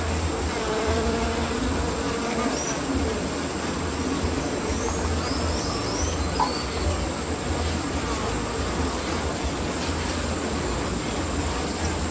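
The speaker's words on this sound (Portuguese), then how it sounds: "É um ninho, é o interior do ninho da Uruçu Melipona scutellariis." Inside a nest of Uruçu stingless bees (Melipona scutellaris), a dense, steady buzzing hum fills the space, with a constant high tone above it and no speech.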